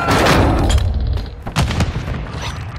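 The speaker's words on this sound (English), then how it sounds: "Throwing grenade!" Grenade explosion in Call of Duty: Modern Warfare II, a loud booming blast with debris and crackling, followed by sharp gunshot-like cracks and rattling over the next second.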